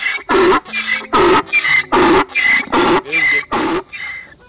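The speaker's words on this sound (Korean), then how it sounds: "당나귀의 울음소리입니다" A donkey brays loudly and close by while out on a walk, a rapid series of about eight rasping hee-haw pulses alternating in pitch and fading at the end.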